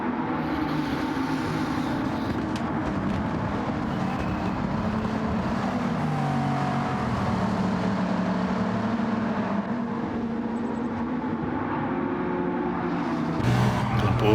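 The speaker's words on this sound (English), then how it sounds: "What a gaggle of cars." A pack of race cars in Gran Turismo 7 at Le Mans, engines droning together in a dense, continuous roar through a sweeping corner, with a brief burst of added noise near the end.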